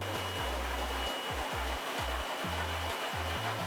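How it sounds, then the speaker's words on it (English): A power washer sprays a screen printing screen with a steady, loud hiss of high-pressure water that runs unbroken throughout, while a low motor hum underneath stutters on and off in short pulses. "we're going to power wash it and see how it comes out."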